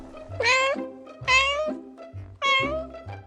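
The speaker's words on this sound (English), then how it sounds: "cat," A cat meows three times in an even rhythm, each call a clear drawn-out tone, close and prominent against a quiet background.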